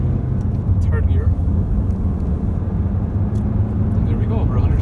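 A 2017 Honda CR-V i-DTEC diesel accelerates on an open road, engine tone building through gear changes over constant road and traffic rumble while someone talks throughout.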